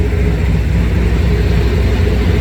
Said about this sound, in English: Just the deep bellow of a diesel engine.